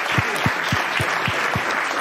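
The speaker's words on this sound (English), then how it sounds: "a round of applause for our panel" Audience applause for a voice design panel at a London mobile UX event, dense clapping with a regular low thumping beat running underneath.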